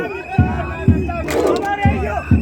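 Rayon Sports supporters in a crowd chant loudly together, their voices rising and falling in a sung rhythm, punctuated by regular heavy thumps of a drum or stamping, with occasional shouts over the top.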